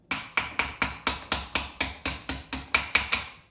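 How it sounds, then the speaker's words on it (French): Small hammer steadily tapping a stiff pin out of a 2020 Alboran FX stepper, about fifteen sharp, evenly spaced metallic knocks, close and loud with no talking. "D'où le petit marteau, on y avance tranquillement"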